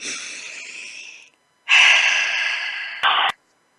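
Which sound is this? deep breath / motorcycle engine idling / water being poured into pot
deep breath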